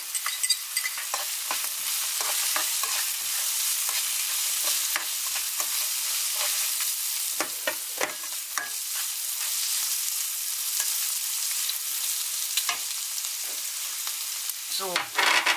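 Onions and garlic frying in a pan for a vegan bolognese, a continuous close sizzle with scattered crackles and pops and occasional stirring scrapes throughout, with no talking.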